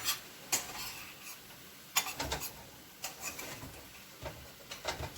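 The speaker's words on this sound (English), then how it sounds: "I'm over here stirring the squash" Squash in a pan is stirred with a utensil, giving repeated scraping clacks and sizzle at an uneven rhythm, fairly close and moderately loud.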